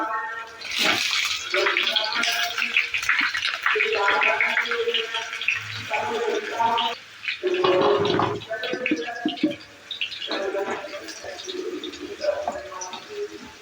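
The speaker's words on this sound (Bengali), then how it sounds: "তেলটাকে ভালো করে হিট করে নেব। আলুটাকে ভেজে নেব।" Potato pieces frying in hot mustard oil in a heated kadai, a steady hissing sizzle running continuously beneath near, almost constant talk and other voices.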